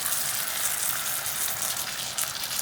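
Spaghetti all'assassina sauce boils hard in a pot on the stove, giving a steady, dense sizzling and bubbling hiss at moderate volume, with no talk.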